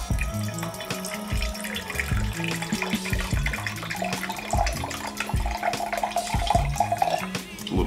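Rice wine vinegar pours steadily into a measuring cup for a quick pickled-cucumber brine, a continuous liquid trickle running under background music.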